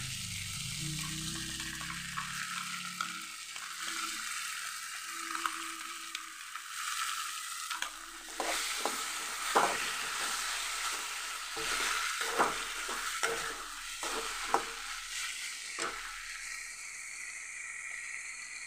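Potatoes and curry leaves fry in a pan while being stirred for a fish curry, giving a steady hiss and sizzle broken by sharp scraping clicks of the spatula, with no speech.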